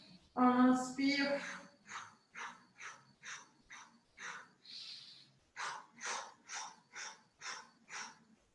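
Rhythmic sharp breaths during the Pilates hundreds exercise, a strained gasp followed by a steady series of short, evenly spaced puffs of air, close and fairly loud.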